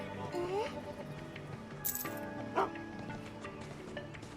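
A dog in the video game Final Fantasy 7 Rebirth gives a short yip and whimper near the start, followed by game sound effects including a coin-like clink, heard close and fairly clear.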